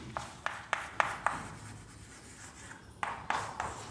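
Chalk or marker strokes on a board in a chemistry classroom, a run of short tapping, scratching marks in quick rhythm that pause and then resume, moderately faint and close.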